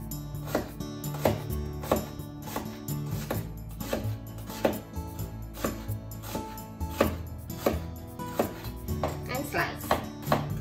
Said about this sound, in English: And slice.